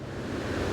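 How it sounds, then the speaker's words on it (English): Pacific Ocean waves pounding a low island shoreline during a king tide, a steady, full roar of broadband surf with no breaks and no voices. "The mighty waves of the Pacific pound the shoreline"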